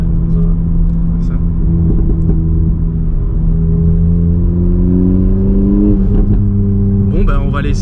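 A VW Polo GTI Stage 3 with 350 hp and a Milltek exhaust accelerates with its tyres spinning, a loud, close engine drone climbing steadily in pitch before easing back.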